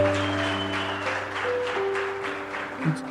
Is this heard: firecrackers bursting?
no